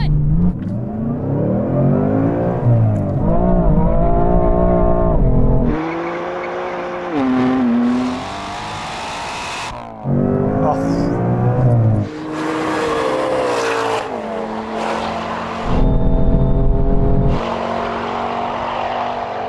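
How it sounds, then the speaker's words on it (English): A Ford Mustang and a BMW M4 with dual-clutch automatic gearbox launch from a rolling start in a half-mile drag race, loud engines revving and climbing through gears with repeated shift breaks and brief tire squeal. "The starter's going to start us and we're going to race over the full half mile."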